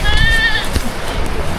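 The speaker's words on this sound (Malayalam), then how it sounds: "അടിപൊളി കേട്ടോ, കുഞ്ഞ് ആട്ടിൻകുട്ടി." A young lamb bleats in a village at Thirunelli, Wayanad, near the Karnataka border: one high, wavering cry close by, over outdoor background noise.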